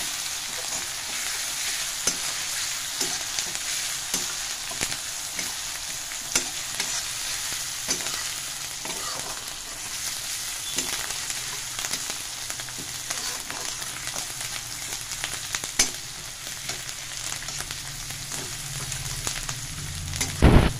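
Spices fry in hot oil in a pan, a dense steady sizzle hissing throughout, with occasional spoon scrapes and taps as they are stirred, close and continuous without talk.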